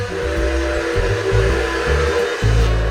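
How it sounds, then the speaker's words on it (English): Close, continuous rumble of a small toy train running on its track around a Christmas tree, with a steady whistling tone over chugging motor noise that shifts rhythmically. "So we do have a little train. It just goes around the tree the whole time,"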